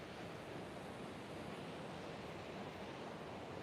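Steady ocean surf washing continuously at an outdoor yoga session, a broad even roar of breaking waves with wind noise, constant and fairly close with no talking.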